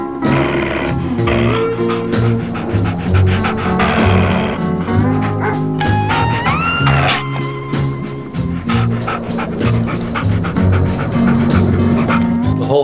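Dogs bark, yip and whimper through a night camera recording, steady and fairly loud throughout, with a dense busy mix of other noise and tonal sounds layered over the animals.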